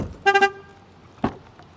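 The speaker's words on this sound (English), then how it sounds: "That's a reminder that my key is still in the car, by the way." A 2015 Chevrolet Spark EV sounds a quick triple horn chirp as a key-left-in-car reminder, then a single softer chirp follows about a second later, close by in a quiet setting.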